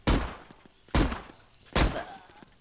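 Gunfire in the zombie video game Zompiercer: three loud, sharp shots spaced evenly under a second apart, each with a short decaying tail.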